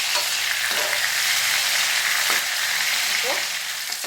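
Prawns for prawn thokku frying over a medium flame and being turned in a pan, an even, bright sizzle throughout with a few soft spatula scrapes and taps, and no voices.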